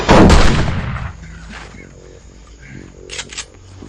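A single loud gunshot cracks out at the very start of a film scene, then fades into quiet room tone with faint scattered sounds.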